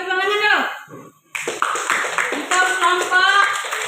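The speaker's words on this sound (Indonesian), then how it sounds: "Coba tepuk tangan dulu" After someone speaks briefly, a group breaks into brisk, steady applause, with voices chattering over the clapping.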